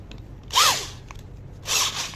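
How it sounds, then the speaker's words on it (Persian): Power drill whirring in two short bursts with its torque clutch set higher to free a jammed drill bit, each burst rising and falling, close by with no talk. "برای اینکه بتونیم مته رو آزاد کنیم تورکمت رو باید رو حالت قوی تر بذاریم"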